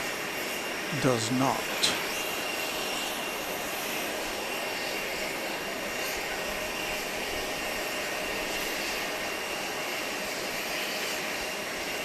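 An airplane at Grand Cayman airport fills the air with a steady, broad engine roar that holds evenly throughout, with a brief voice talking near the start.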